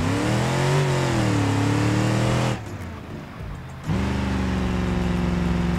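A long SUV in BeamNG.drive revs hard with brakes and throttle held together, a loud steady engine drone that dips briefly in the middle before surging back.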